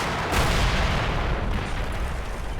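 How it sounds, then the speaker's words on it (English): Artillery fire mission in the Combat Mission Red Thunder war game, a dense, continuous rumble of shell bursts and gunfire rolling on without pause, loud and sustained with no voices. "fire mission to the east has ended. This one to the west is still going on."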